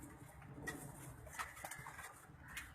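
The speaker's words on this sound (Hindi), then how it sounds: "ये एक कबूतर मैंने पकड़ा है" A pigeon held in the hand gives soft coos and rustles, with a few faint brief calls over steady low background noise and no talk.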